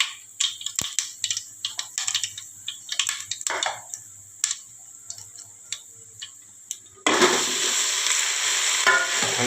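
Mustard seeds crackle and pop in hot oil as a tempering, sharp irregular ticks close up, then muthiya pieces of bottle gourd dough drop in and a dense, continuous sizzle takes over.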